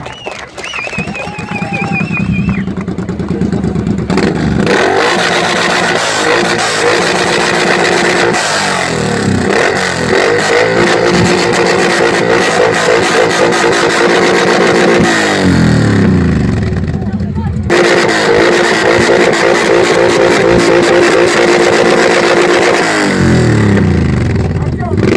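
A Suzuki M109R motorcycle with a loud exhaust revs hard at a motorcycle festival, sustained roaring blips and drops of the engine over about twenty-five seconds, very loud and close, with crowd noise and talk around it.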